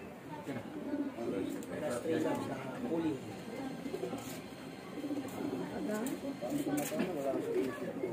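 Soft, low cooing from a racing pigeon during a summer derby race, repeating under steady, near voices that talk through the whole stretch.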